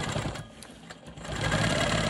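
A sewing machine stitching in the ditch on a star quilt block runs in a steady mechanical whir up close, slowing briefly before building back to a faster, louder hum.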